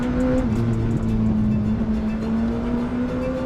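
Race car engine holding a steady, loud drone on a real circuit, heard from inside the car with a brief pitch dip as the gear changes, then a sustained even tone.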